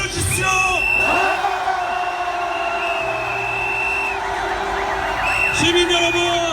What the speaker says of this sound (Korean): 함성 질러주십시오